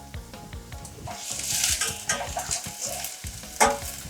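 Onion sizzles steadily in a pan while a utensil scrapes and taps against the metal in a quick, uneven rhythm, ending with a sharper clink.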